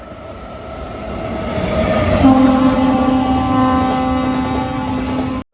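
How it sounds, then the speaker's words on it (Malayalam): The Jhelum Express rolls into Panipat Junction station with a sustained rumble and a steady horn tone rising midway, holding loud and close until it stops abruptly near the end. "പന്ത്രണ്ട് 29 പാനിപത്ത് ജംഗ്ഷൻ സ്റ്റേഷനിലേക്ക് ഇതാ ട്രെയിൻ എത്തിയിരിക്കുകയാണ്."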